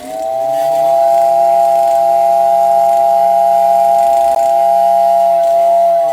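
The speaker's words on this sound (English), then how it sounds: "That whistle is so loud and so full of vibration that it upset these spring flowers here." A loud steam train whistle blasts in one long, steady, piercing tone for several seconds, close and full of vibration, and cuts off only at the very end.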